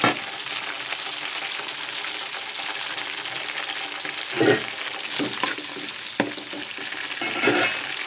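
Green chillies, onions and herbs fry in hot oil with a steady, close sizzle, interrupted by a few stirring scrapes and soft pops.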